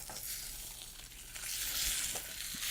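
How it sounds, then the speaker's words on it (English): Meat searing in a non-stick pan, a steady, close hissing sizzle that holds throughout and swells slightly louder toward the end, with no talking. "So we're just going to sear it on the other side."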